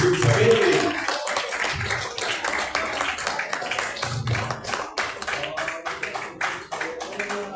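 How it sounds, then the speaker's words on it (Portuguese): A church congregation claps for a music group during a Holy Communion service. A voice speaks over a run of sharp, individual hand claps that settles into a quick, rhythmic patter. "Receba o grupo com palmas bem alegre para Jesus."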